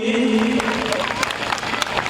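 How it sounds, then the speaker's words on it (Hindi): An audience at a Christmas celebration breaks into applause, a dense patter of clapping that carries on steadily while a voice and a sustained tone sound at the start. "जोरदार तालियां सभी"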